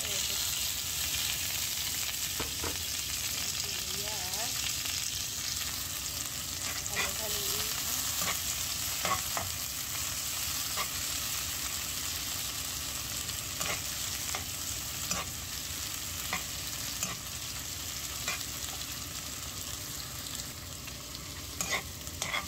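Garlic and onion stir-fry in a hot pan for a bittergourd and egg dish, a steady close sizzle running throughout with scattered scrapes and taps of a utensil, no voices.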